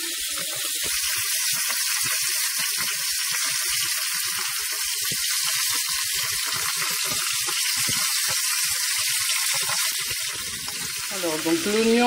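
Onions sautéing in a pan, a steady close sizzle with scattered crackles running throughout, and a brief watery rush near the end.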